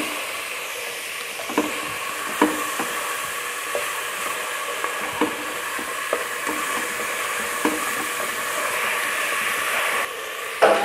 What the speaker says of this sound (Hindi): अब हमने इसको 5 मिनट तक ऐसे ही फ्राई करना है।